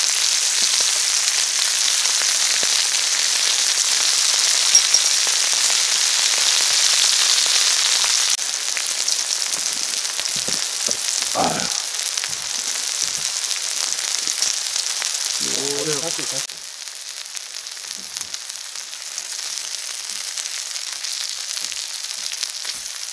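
Pork belly sizzles and fries on a hot stone plate over a wood fire, a steady loud hiss throughout with a drop in intensity partway through and a few brief clinks and scrapes.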